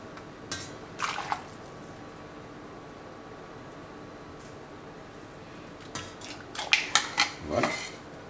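Cooking liquid from a pot of leek soup is scooped out with a ladle, giving a few clinks of metal against the pot and brief splashing pours, quiet at first and busier near the end.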